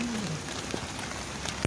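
Heavy rain pours down onto a street by the roadside in Bouzareah, Algiers, a steady close hiss of falling water with a few brief tonal sounds at the start and a short knock near the end.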